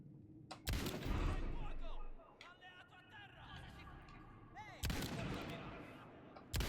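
Gunfire in the video game Indiana Jones and the Great Circle: two loud, sharp bursts of shots several seconds apart, with clattering and talking in between.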